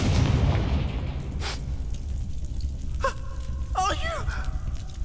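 A Confringo fire spell bursts in Hogwarts Legacy on Xbox Series X with a loud, booming blast that rumbles and fades, followed by short vocal gasps and effects.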